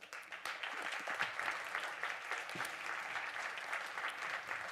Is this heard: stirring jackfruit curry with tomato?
no